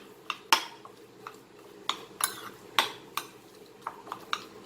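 Chicken momo stuffing is stirred in a bowl, with a spoon clinking and scraping against the sides in irregular sharp knocks over a soft shuffling, close and without speech.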